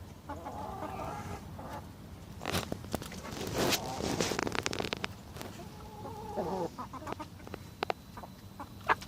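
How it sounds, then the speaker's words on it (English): A flock of 22-week-old chickens at an allotment clucks and rustles close by, with soft repeated clucks and scuffling movement throughout and no talking. "These are, remember, these are the chicks, 22 weeks old"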